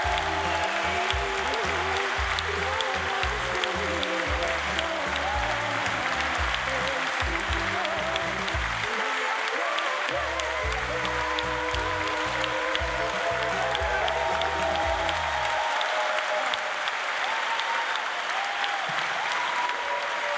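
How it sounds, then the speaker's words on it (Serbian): A concert audience in Leskovac applauds at length, a dense, steady wash of clapping that stays loud and even throughout, with music underneath fading out near the end. "Kao i svakog puta, aplauz je trajao dugo."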